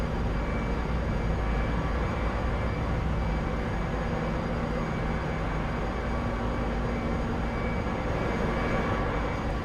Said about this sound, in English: I could hear the engines of the other airplane